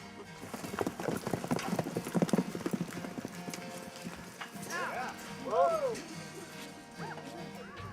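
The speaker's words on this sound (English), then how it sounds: "Go saddle me a horse." A saddled horse's hooves clip-clop in a quick, uneven patter, fairly faint and distant, followed by quieter movement and what sounds like a short whinny.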